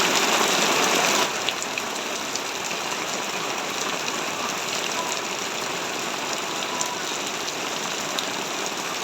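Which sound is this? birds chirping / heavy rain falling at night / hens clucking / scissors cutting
heavy rain falling at night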